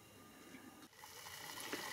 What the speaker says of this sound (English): is adding more water